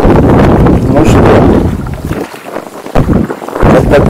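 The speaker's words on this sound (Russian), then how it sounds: "вот такая вот буря раздулась" Storm wind roars over a steppe lake in Siberia during a fishing trip, loud gusts buffeting the microphone, then easing briefly before surging back.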